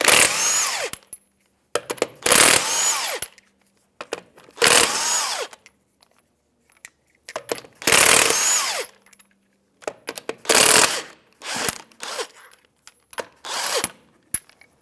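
Impact wrench zipping off 21 mm lug nuts from a 2011-2016 Hyundai Elantra wheel, several loud separate bursts of a couple of seconds each with short quiet gaps between them, close by with no talking.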